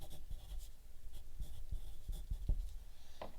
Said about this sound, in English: flip your paper over, write your name